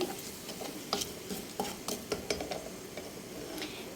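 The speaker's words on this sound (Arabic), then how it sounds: "هنقلب بقى كله كده في بعضيه كده" Ingredients for a light, healthy lunch being stirred together in a pot, with irregular soft scrapes and clinks of a utensil against the pot over a faint low rumble.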